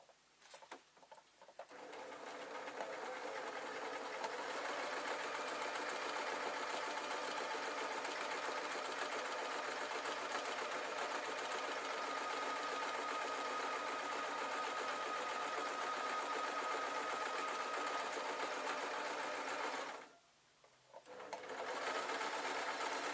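A sewing machine stitches a jacket seam with binding tape in a fast, steady mechanical whir that runs loud and continuous for about twenty seconds, pauses briefly, then starts again.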